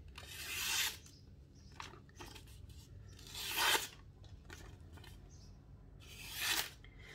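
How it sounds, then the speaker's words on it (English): Three separate swishing, rasping strokes of an Otter boat knife cutting through paper, each lasting about half a second and spaced a few seconds apart, with quiet between them. "see it slices through the paper"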